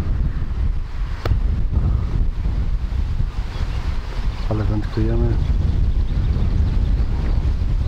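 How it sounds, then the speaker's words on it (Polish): Strong wind buffets the microphone in a steady low roar throughout, with someone speaking briefly partway through, while carp fishing. "Zobaczcie, jaki wiatr się zrobił."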